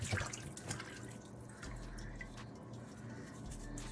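Water runs steadily from a tap while raw chicken wings are rinsed at a sink, a low continuous wash with a few soft drips and splashes, fairly quiet and with no talking.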